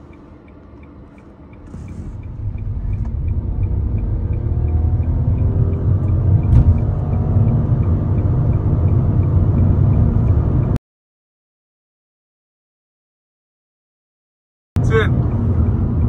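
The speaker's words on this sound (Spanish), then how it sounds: "vamos a hacer una prueba de aceleración en el modo Braking Sport" A Nissan Kicks e-Power accelerating in sport mode, a steady low cabin rumble that swells as speed builds, with a faint regular ticking, then a sudden break in the sound before it resumes.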